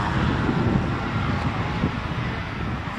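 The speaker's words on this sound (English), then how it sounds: "it's a little bit of crosswind out there now" Crosswind gusting across an open model airplane flying field, a steady broadband rush of wind buffeting the microphone for the whole stretch with no voices.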